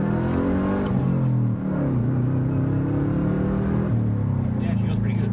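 Stage 1 tuned car with a short shifter accelerating, a steady engine drone with harmonics rising and falling through the gears, heard loudly from inside the cabin.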